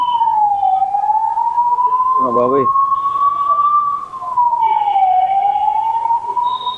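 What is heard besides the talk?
ambulance siren passing on the road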